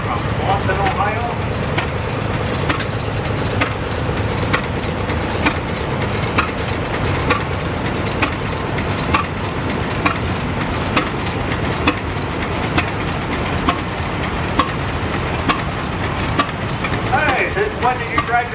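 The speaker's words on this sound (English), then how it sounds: "We have a Baker engine coming here from Boston, Ohio." A Baker steam traction engine from Boston, Ohio rolls past in a tractor parade at a threshermen's reunion, its regular chuffing beats steady beneath a loud announcer and crowd noise.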